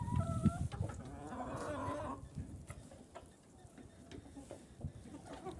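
A bantam hen and a chicken cluck close by in short bursts, with scattered soft clucks and quiet rustling afterward.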